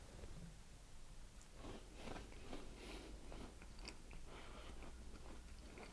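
Chewing on a crumbly, compressed cereal bar from an MRE ration pack, heard close up as soft crunches and bites over a faint low background, with no talking.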